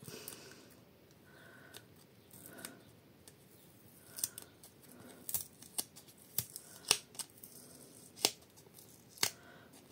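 Adhesive tape is peeled and ripped from a package in a run of sharp, crackly snaps and tearing sounds that grow louder and more frequent.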